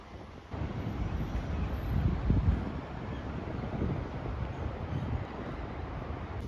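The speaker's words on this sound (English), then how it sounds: "it was quite a windy day," Steady wind buffeting outdoors on a blustery day near a tower in Yokohama, a continuous loud rumbling roar with gusts swelling around the middle, no voices.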